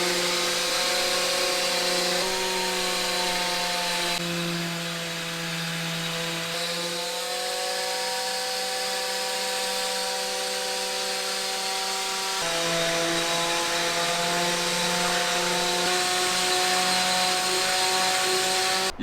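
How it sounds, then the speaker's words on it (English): A power sander grinds steadily into the sidewall edges of a handmade ski, giving a loud, continuous whine whose pitch dips and rises slightly as the pressure changes. There is no speech. "we'll then sand it slowly into the sidewall to create aesthetic lines"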